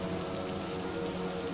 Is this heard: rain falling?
yes